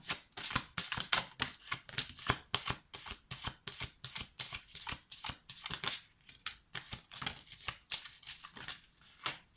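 Tarot cards being shuffled by hand, giving a soft, rhythmic series of riffling flutters that repeat steadily throughout, fairly quiet and close, with no voices.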